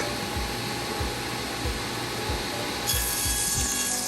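A saw cuts wooden pieces for a camp chair, cut up to a stop block, with a rough, rhythmic rasping of repeated strokes, close and steady, and a brighter whine entering near the end.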